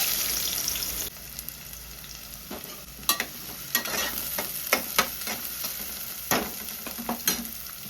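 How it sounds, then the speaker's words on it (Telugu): Onions hit hot tempering oil with a burst of sizzling, then keep frying under a softer crackle while a spoon scrapes and knocks against the pan in irregular strokes, no talking. "ఫస్ట్ ఉల్లిపాయలు వేస్తున్నాను."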